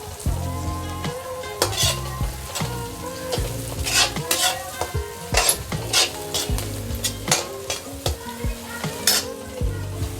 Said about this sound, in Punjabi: ਤੁਸੀਂ ਦੇਖ ਸਕਦੇ ਹੋ ਸਾਡੀ ਸ਼ਿਮਲਾ ਮਿਰਚ ਵੀ ਜਿਹੜੀ ਹੈ ਜੀ ਚੰਗੀ ਤਰ੍ਹਾਂ ਭੁੱਜਦੀ ਪਈ ਹੈ ਜੀ